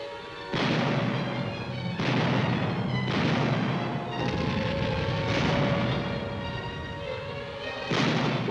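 A 90mm anti-aircraft gun battery fires in repeated heavy booms, roughly one per second, each blast followed by a rolling rumble, loud and distant-sounding in open air.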